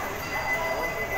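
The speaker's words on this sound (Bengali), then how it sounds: "ট্রেন ছাড়ে।" The Howrah–Puri Vande Bharat Express pulls away from the platform with a steady, close rolling rumble and a faint metallic hiss of rail noise throughout.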